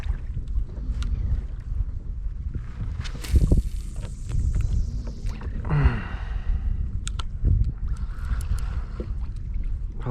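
A kayak knocks and scrapes on open water off Hatteras while strong wind rushes across the microphone, with a few sharp thumps and a short gasp-like breath.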